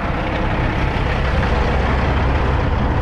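An old heavy-duty Kenworth picker truck with a 20,000-pound front axle and a crane on the back runs steadily nearby, its loud, continuous low engine rumble filling the scene without pause.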